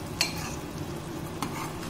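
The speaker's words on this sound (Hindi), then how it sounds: "अब इसके ढक्कन को हटाकर से थोड़ा मिक्स कर लें इस तरह से।" Pumpkin chutney being stirred in an uncovered pressure cooker, with a soft sizzle under two brief scraping stirs, faint and close, no talk.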